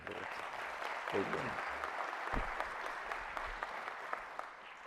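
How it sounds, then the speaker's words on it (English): An audience at a community event gives a sustained round of applause, dense steady clapping throughout with some faint voices mixed in, fairly quiet and distant. "So let's give him a round of applause."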